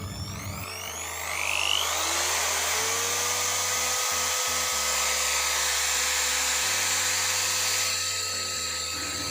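A DCK KZJ16 impact drill spins at its highest speed, a loud high-pitched motor whine that rises as it spins up, then holds steady with a few brief dips.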